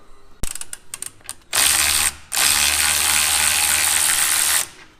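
A Snap-on ratchet wrench clicks in a few quick bursts during Golf R suspension bushing work, followed by a long, loud, steady whirring rattle of rapid ratcheting with a brief gap in the middle.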